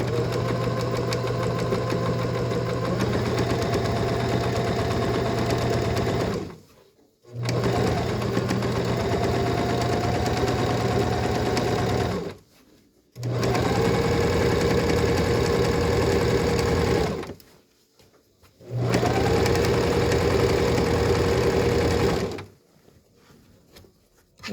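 A sewing machine runs steadily while stitching three layers of patchwork fabric for a quilt, making a loud, even mechanical whir in four long runs separated by brief pauses.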